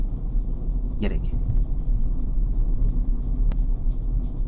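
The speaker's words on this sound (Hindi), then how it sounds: "आप देखिए सिर्फ क्लच और ब्रेक की मदद से गाड़ी को रिवर्स करूंगा।" A manual car idles in reverse, moved only with clutch and brake and no throttle, giving a steady low engine rumble throughout while someone talks over it.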